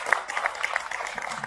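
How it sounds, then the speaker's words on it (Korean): Audience applause at a Korean book publishing event, a fairly faint, steady patter of clapping from a gathered crowd, with a voice murmuring underneath. "큰 박수 부탁드립니다."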